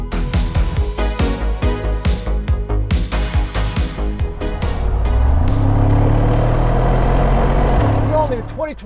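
A 2025 Mercedes-AMG G63 V8 revs in a string of sharp pulses, then settles into a deep, steady roar close by, while people talk over it.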